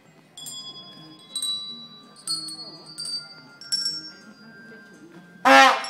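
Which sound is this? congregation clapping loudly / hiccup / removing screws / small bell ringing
small bell ringing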